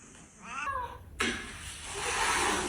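A cat yowls and meows in distress while being handled during a chiropractic adjustment, with several drawn-out cries close by, followed by a loud, harsh outburst that fills the rest of the moment.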